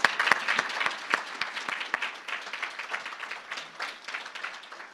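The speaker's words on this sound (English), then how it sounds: "I think they deserve another round of applause." Applause at a Chamber of Commerce breakfast, a crowd clapping briskly with sharp distinct claps up front that thin and soften over five seconds, moderately near.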